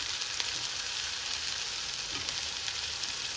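Chopped bell pepper sizzling in oil in a pan while poha cutlet mixture is prepared, a steady close hiss of frying with a soft stirring scrape partway through.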